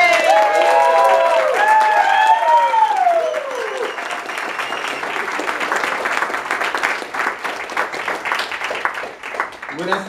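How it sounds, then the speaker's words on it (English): An audience at the San José Poetry Festival applauds as a poet is introduced, with dense clapping and some cheers under a voice that fades out. The applause thins over ten seconds into scattered claps. "Please put your hands together for our Yosimar Reyes."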